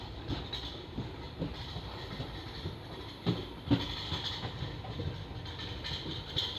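The Koyna Express rolls into Rahimatpur station with a steady, close rumble of carriages and a couple of sharper wheel clacks over rail joints, no talking.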